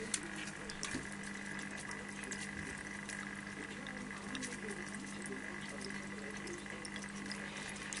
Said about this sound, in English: So this is the sound of the filter.